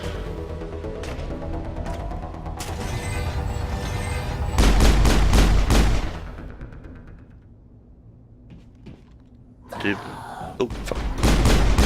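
Loud pistol gunfire in the video game Mass Effect, with heavy booming bursts, a quieter lull, then more shots, while a man swears briefly over the action.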